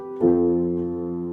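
A single sustained piano chord or note struck once and left ringing, clear and close, slowly fading.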